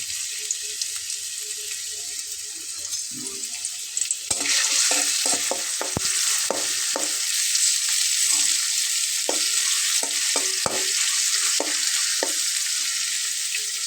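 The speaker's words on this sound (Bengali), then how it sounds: "তারপরে আমি এখানে পেঁয়াজটা দিয়ে দেব, কুচি করে নেওয়া।" Chopped onion hits two tablespoons of hot soybean oil and bursts into a loud, steady sizzle, with the scrape and clack of a stirring utensil repeating over the frying.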